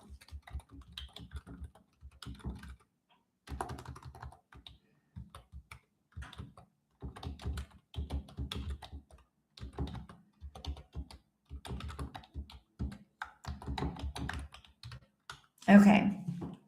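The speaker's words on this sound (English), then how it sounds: "Let me type that" Typing on a computer keyboard, with quick bursts of close key clicks separated by short pauses and one louder thunk near the end, while a voice talks intermittently underneath.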